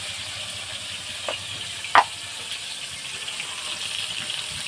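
Washed eggplant pieces frying with salt and turmeric in a pan produce a soft, even hiss of hot oil throughout, with one small pop near the middle.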